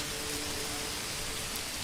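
Rain in the video game Manor Lords, a steady hiss of falling drops, even and continuous with no voices over it.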